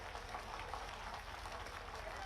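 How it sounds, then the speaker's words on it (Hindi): A large outdoor political rally crowd claps in a steady, continuous wash of applause at moderate distance, with crowd murmur and low rumble blended underneath and no single clap standing out. "ताली जोर से हो जाए जरा"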